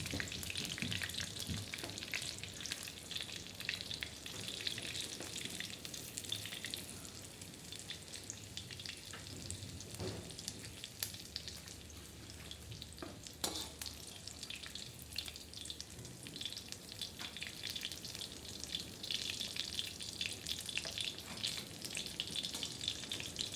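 Fish frying in a pan in North Karnataka style, a continuous loud sizzle of hot oil with occasional scraping and stirring noises over the whole stretch.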